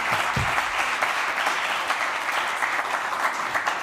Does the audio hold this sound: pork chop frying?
no